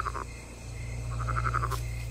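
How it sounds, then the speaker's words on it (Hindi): A frog croaks in Black Myth: Wukong, a short pair of croaks followed by a quick run of pulsed croaks, moderately close over a steady low ambient hum. "और ये मेंढक"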